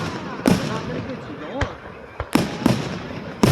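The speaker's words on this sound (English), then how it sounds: "Can't really distinguish colors in fireworks" Fourth of July fireworks explode in a run of sharp booms, several landing in quick succession, over a constant crackle of sparkling glitter shells.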